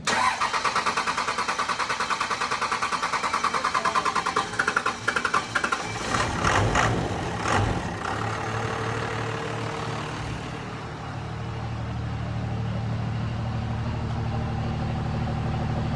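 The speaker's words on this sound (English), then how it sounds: "Well, let's throw it on dyno, see what she does." A 700hp 12-valve Cummins diesel truck on a dyno, first cranking with a rapid starter chatter, then catching and settling into a loud, steady diesel idle close by.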